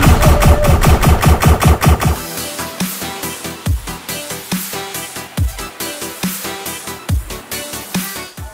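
Rapid automatic fire from a Pi-Tech rifle in Call of Duty: Advanced Warfare, loud, fast and evenly spaced shots in bursts, with the rhythm slowing slightly midway before continuing steadily.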